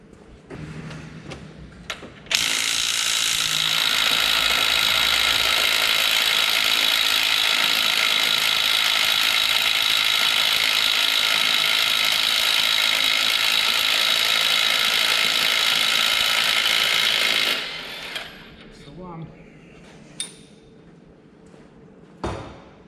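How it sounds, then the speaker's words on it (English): Ratchet or power tool working the 24mm balancer bolt on an LS3 engine: a sustained loud mechanical whir holding steady for about fifteen seconds, then cutting off into scattered clicks and handling clatter. "we'll get that 24mm out and then I'll get the balancer off"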